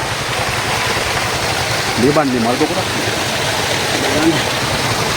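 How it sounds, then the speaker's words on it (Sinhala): A stream flows steadily through a hill-country roadside setting near Haputhale, with a constant rushing wash heard close by while someone talks over it briefly. "ලස්සන වතුර පාරක් යනවා මෙතනින් මේ බලන්න."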